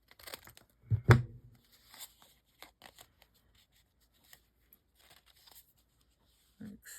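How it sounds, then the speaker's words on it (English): Paper edges being trimmed for a junk journal, heard as a few short crisp cuts and rustles spaced through a mostly quiet stretch, with one louder snip-and-crinkle near the start. "So we're just going to trim our edges off."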